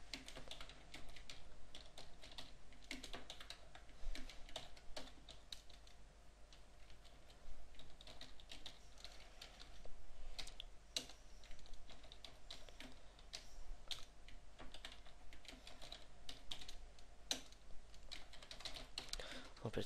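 Steady clicking of computer keyboard keys while C++ code is typed continues throughout, close and fairly quiet, with uneven bursts of keystrokes and a few sharper taps.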